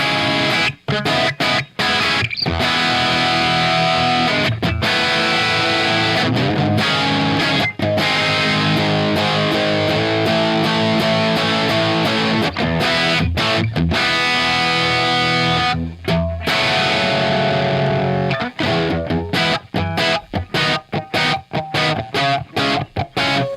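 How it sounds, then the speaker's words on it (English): A Fender Telecaster electric guitar played through a PROTO2 distortion pedal, with a thick, chunky overdriven tone that stays clear between notes, playing a loud, continuous riff with brief choppy stops throughout. "that distortion works for me"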